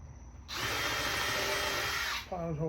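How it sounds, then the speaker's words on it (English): A power drill whirs loudly for about two seconds while drilling a pilot hole in MDF, starting abruptly and stopping, followed by a brief low mechanical hum. "drill a quick pilot hole"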